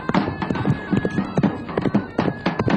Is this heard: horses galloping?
yes